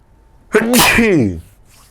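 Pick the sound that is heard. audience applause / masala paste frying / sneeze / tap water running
sneeze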